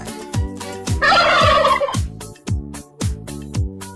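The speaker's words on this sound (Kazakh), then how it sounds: "күрке тауық" A domestic turkey lets out a loud, rapid gobble lasting about a second, heard over a looping music track with a steady thumping beat.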